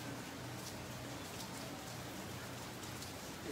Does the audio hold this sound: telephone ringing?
no